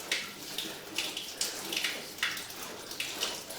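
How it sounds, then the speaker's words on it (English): Water running through a drain pipe during a sewer line camera inspection, a steady rushing hiss with bursts of splashing, moderately faint and continuous, with no speech. "he's running the water"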